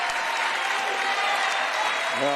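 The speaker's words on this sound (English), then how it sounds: "Nice reception from the crowd" A home crowd at a high school senior night wrestling match applauds a senior wrestler with steady, dense clapping filling the gym, while an announcer talks over it.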